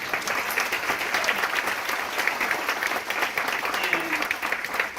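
Audience applause fills a town hall meeting in Mississippi, a steady, dense wash of clapping that holds for the whole stretch, close and even, with faint voices mixed in beneath it.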